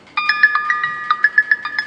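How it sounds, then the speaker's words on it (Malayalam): A mobile phone ringtone rings indoors in a Malayalam comedy serial scene, a bright repeating electronic melody of quick chiming notes that plays loud and clear on its own, with no talk over it. "നിനക്ക് ഫോൺ കേട്ടോ."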